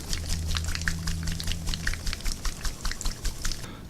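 A small bottle of strawberry DIY e-liquid is shaken hard, liquid sloshing in quick rhythmic bursts up close, with a low hum beneath.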